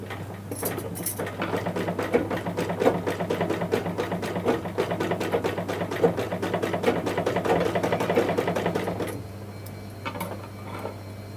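A sewing machine in a tailoring class runs a round seam in a fast, even stitching rattle, close and steady for about nine seconds before stopping, with a faint background hum.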